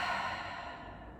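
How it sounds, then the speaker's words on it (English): A single soft, breathy cleansing exhale pushed out through an open mouth during a vinyasa yoga flow, close and quiet, fading out over about a second. "Open mouth, exhale."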